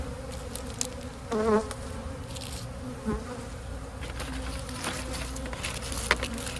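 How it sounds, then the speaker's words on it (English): Honeybees hum steadily in an open boosted hive during an inspection, a dense continuous drone with a few louder passes of individual bees buzzing close by; no talking. "Drive the bees down so we don't squish anything."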